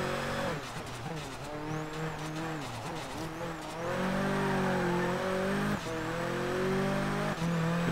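Car sliding its rear out in Forza Horizon 3, a small city runabout, with a steady engine drone rising and shifting pitch, tire noise under it, and a voice speaking over the top.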